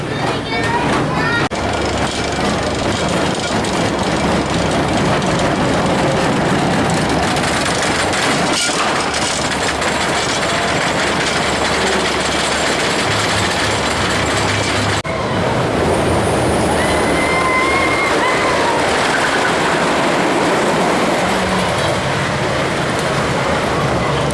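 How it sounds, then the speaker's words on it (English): Riding the back row of Coastersaurus, a junior wooden roller coaster at Legoland Florida, brings a loud, continuous rumble and rattle of the train on the track, with riders' voices mixed in throughout. "So Coastersaurus was a decent little junior wooden coaster there."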